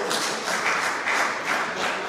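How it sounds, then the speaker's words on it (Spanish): Sunday church congregation clapping in a loud, sustained burst of applause with slight swells in intensity, close and without talk. "Un fuerte aplauso por eso."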